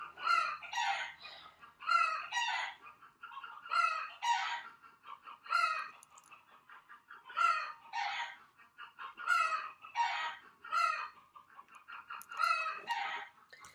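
Outdoor chickens keep up a lively run of clucks and crowing calls, with rhythmic bursts every second or two and mid-distance squawks repeating throughout.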